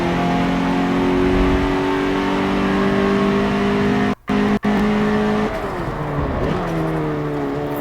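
A video game car engine hums steadily at high revs, briefly cutting out twice, then shifting pitch as it accelerates again, loud and continuous with no talking.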